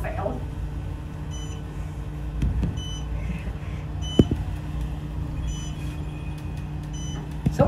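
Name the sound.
mobile phone ringing in an Otis elevator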